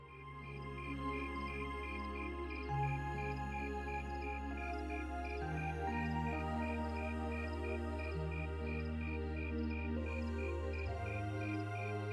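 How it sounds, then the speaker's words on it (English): Crickets chirp steadily in The Legend of Heroes: Trails of Cold Steel video game, a continuous thin chirring that sits under sustained background music throughout. "Those crickets are loud."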